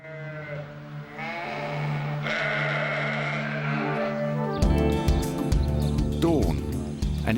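Sheep from a Merino flock bleat repeatedly on a hot day in the Spanish countryside, overlapping calls near and far, with someone narrating over them throughout.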